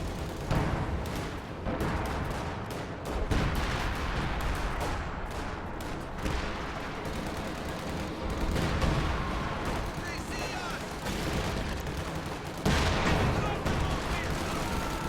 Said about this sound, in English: Anti-tank gun is ready for action.